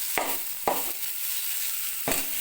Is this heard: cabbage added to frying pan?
yes